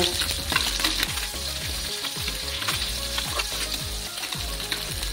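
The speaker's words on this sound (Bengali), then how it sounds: "আর কিছুক্ষণ এইভাবে আমি মাছগুলো ভেজে নেব।" Small puti fish sizzle continuously in a pan of hot oil, a dense close crackle with frequent sharp pops and spatters at an even, lively pace, no voices present.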